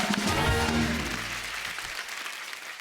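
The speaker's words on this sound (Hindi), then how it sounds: "जोरदार तालियां कंगना के लिए।" Applause from a studio audience at a comedy talk show taping, a dense wash of clapping that starts full and gradually thins and fades over a few seconds, heard on its own.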